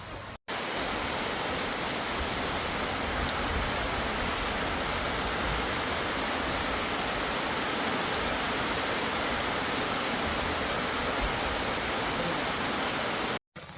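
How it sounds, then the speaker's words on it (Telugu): Dense, steady rain roars without a break at Chandragiri, Odisha, a thick wash of drops hitting surfaces close by. "మీరు చూస్తే వర్షం అయితే పడుతుంది బాగా."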